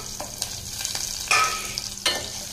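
Shallots and garlic sautéing in a pan with curry leaves for banana flower sambar, a soft steady sizzle with a few sharp spatters and utensil clicks, close by.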